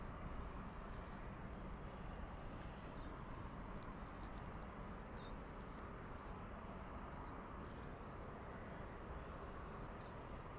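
Distant, steady engine rumble of an Airbus A320 airliner taxiing at Frankfurt airport in the evening, a faint, continuous broadband roar with no pauses.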